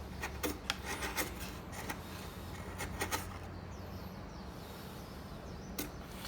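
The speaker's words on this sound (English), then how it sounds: "So usually I would do most of the paring flat like this." A wood chisel pares a wooden workpiece by hand, making quiet, dry scraping and rasping strokes in short repeated passes, close by and with no talking.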